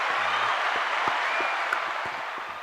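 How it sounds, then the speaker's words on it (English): Brief applause for a podcast host's recent marriage, a moderate wash of clapping that stays steady and slowly tapers, with a short low hum near the start. "Clap it up for that."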